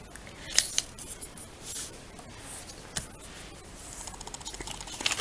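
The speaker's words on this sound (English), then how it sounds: "Unfold it and fold it in half in the other direction." Paper being creased and folded for an origami bird, with crisp crinkles and short sharp creasing snaps at irregular intervals, close and fairly quiet with no talking.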